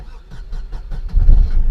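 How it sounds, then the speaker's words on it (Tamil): A Chevrolet Beat diesel car engine starts up close by, with a few quick cranking pulses before it catches into a deep, rumbling idle. "ரொம்ப ஸ்மூத்தாக இன்ஜின் ஸ்டார்ட் ஆகுது"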